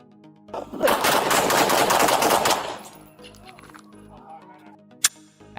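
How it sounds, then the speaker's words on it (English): Rapid burst of gunfire in a shootout between an armed suspect and sheriff's deputies, a dense volley of shots lasting a couple of seconds, then quieter movement and one more sharp crack near the end. "After being struck, Diaz still raised his firearm and shot at a deputy"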